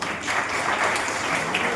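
An audience at a college science exhibition prize distribution ceremony applauds, a short burst of steady, dense clapping from a crowd.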